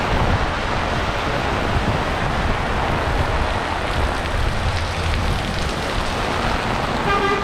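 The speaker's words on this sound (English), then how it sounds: "now it's starting to rain a little bit more. I think you could hear it on that tin roof next to me" Heavy tropical storm rain drums steadily on a tin roof in town, a loud dense wash of hiss with passing traffic noise blended underneath.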